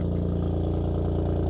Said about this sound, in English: I can close it and now it sounds more like a car.